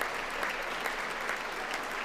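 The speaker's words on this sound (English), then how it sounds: "People are clapping." Congress members applauding during a State of the Union speech, a continuous, even roar of many hands clapping in a large hall, sustained for the whole stretch.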